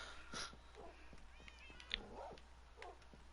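A cat meows in the Life World video game, a couple of short faint mews over low steady background hum, with a brief click in between.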